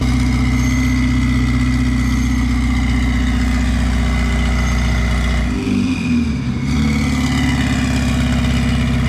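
A car with red carbon bodywork rolls slowly past at low speed, its loud, low engine rumble holding steady and swelling briefly as it passes close by, with no talking.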